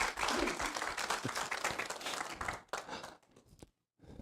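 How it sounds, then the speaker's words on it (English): Audience clapping after a church service talk, a dense burst of applause that thins into scattered claps and stops, followed by a brief silence. "I'm clapping."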